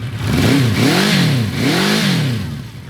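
A 1976 Honda CB400 Four fitted with Boyer-Bransden ignition runs close by just after starting. The engine revs up and down in rising and falling sweeps, loud and alone with no voices.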